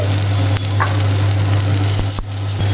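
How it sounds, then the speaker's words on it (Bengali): Chopped onions sizzle in mustard oil in a wok, a steady close frying hiss broken by a few sharp stirring scrapes and clacks, with no voices. "পেঁয়াজটা একটু ভাজা হোক"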